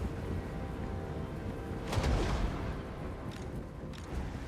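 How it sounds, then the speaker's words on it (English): A dull boom of catapults firing in Total War: Warhammer stands out over a continuous low rumble of distant battle noise, followed by a couple of fainter thuds, with no voices. "Make sure that my catapults are firing at their heavy infantry"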